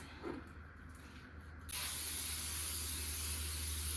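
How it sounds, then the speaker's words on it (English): A short click, then a steady, close hiss of cooking spray sprayed into a pot, continuing to the end. "So I need to spray this."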